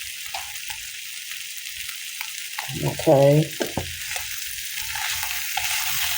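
Chicken fries in a pan with a continuous bright sizzle and crackle, close and steady, while a voice speaks briefly near the middle.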